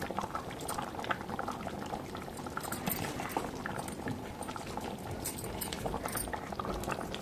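Yam and mango curry bubbles steadily in a pot, a dense, continuous boiling and simmering with constant popping bursts, close and moderately loud, no voices.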